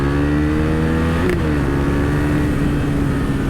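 KTM RC 390 single-cylinder motorcycle accelerating on a road, a loud close engine drone with a brief gear-shift dip partway through, then the pitch climbing again steadily.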